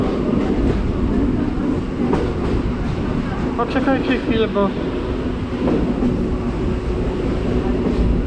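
Train ride to Zakopane heard from inside the carriage: a steady low rumble and rattle of the moving train runs throughout, with a brief burst of squeaks partway through, while people talk over it.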